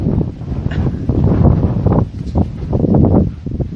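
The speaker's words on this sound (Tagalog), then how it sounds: "Malakas ang hangin ba di?" Strong wind buffets the microphone in heavy, rumbling gusts that swell and ease, with rustling in the background.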